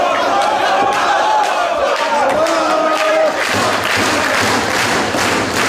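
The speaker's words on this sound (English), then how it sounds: "Crowd once again urging Danielson" A Ring of Honor wrestling crowd roars and chants continuously, urging on Bryan Danielson as he stretches El Generico's legs on the canvas; the noise is loud, dense and sustained, with scattered shouts and claps.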